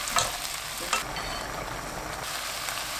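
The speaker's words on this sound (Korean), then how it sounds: "해물이 익으면 표고버섯, 파프리카, 청경채 넣어줍니다. 야채가 익을 때까지 볶아주세요." Seafood, shiitake mushrooms, paprika and bok choy stir-fried in a pan for seafood nurungji-tang, a steady broadband sizzle with a couple of brief louder stirring scrapes near the start, close and alone without talk.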